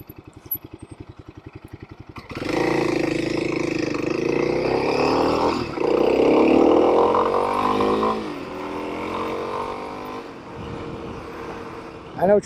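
Kawasaki KLX 300 dual-sport motorcycle ridden through city streets, its engine loud and steady with rises and falls as it accelerates, ending in a brief burst; a low putter idles alone before the ride begins.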